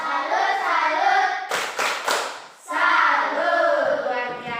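A group of children claps in unison for a classroom clap salute, a quick burst of sharp, rhythmic claps in the middle, with children's chanting before and after.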